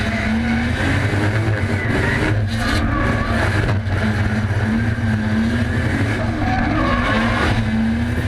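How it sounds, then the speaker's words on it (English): Race cars battle on Sydney's South Circuit, tyres squealing and engines screaming at high revs. The loud, continuous roar and screech hold on without a break, with the pitch of the engines wavering throughout. "Tyres screaming, engine screaming."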